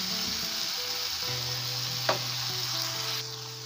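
Canned shredded tuna in oil goes into a pan of sizzling sauce, and a steady frying hiss and crackle runs throughout. One brief clack of a utensil or can is heard, with no talk.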